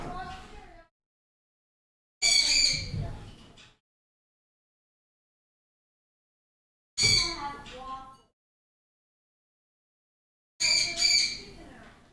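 A pet bird gives loud, shrill squawks in three separate bursts with silence between them, heard close up in an indoor setting.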